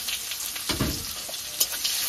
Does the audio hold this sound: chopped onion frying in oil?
yes